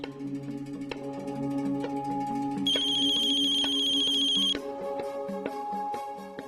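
A telephone ringtone plays a bright, repeating electronic melody, loud and steady for several seconds with a higher, sharper phrase in the middle, and no one speaks over it.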